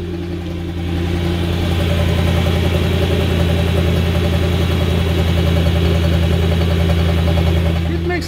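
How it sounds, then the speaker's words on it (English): A Mercedes E55 engine idles steadily and loudly nearby, with a rough, pulsing exhaust rumble from an exhaust leak running throughout. "It's leaking the exhaust."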